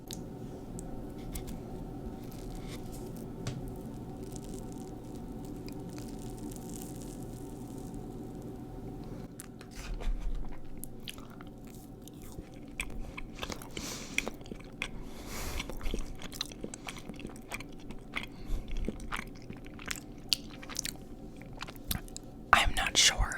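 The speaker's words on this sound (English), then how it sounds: "But the cookie breaking noises are the best noises." Crumbl cookies with crispy outsides are broken apart and chewed close to the mic, giving soft crunches and mouth sounds that grow busier in the second half, with whispering throughout.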